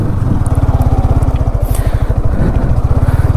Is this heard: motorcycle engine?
yes